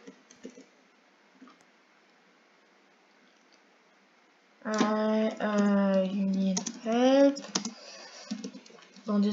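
Someone types on a PC keyboard, with faint scattered key clicks at first, then louder tonal sounds from a voice or the game take over.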